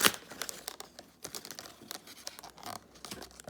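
Cardboard and plastic packaging of an Iron Man toy box being torn and crinkled open by hand, a close, busy run of rips and crackles with no talking.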